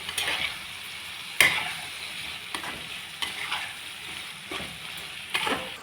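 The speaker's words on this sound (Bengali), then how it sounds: "এবার আমি এখানে সেদ্ধ ছোলাটা মশলাটার ভেতর দিয়ে কষিয়ে নিচ্ছি।" Boiled chickpeas sizzle steadily as they are sautéed in masala in a hot pan, with sharp scraping stirs of a spatula recurring every second or two, close and fairly loud with no talking.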